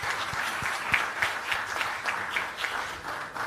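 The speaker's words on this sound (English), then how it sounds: "Can we have a resounding round of applause for our legacy partners," Conference audience applauding partners at the Jamaica Diaspora Conference launch, sustained dense clapping across a large room.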